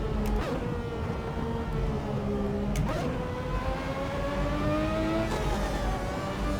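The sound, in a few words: Ferrari 643 V12 engine whining, Assetto Corsa video game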